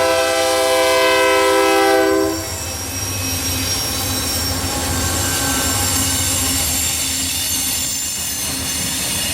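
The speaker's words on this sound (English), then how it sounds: "368 slowly rounds the curve with a pair of Union Pacific motors on the head end" A freight train led by a pair of Union Pacific locomotives rolls slowly past loudly on a curve, a sustained horn blast at first, then wheels screeching steadily against the rails as the cars keep moving.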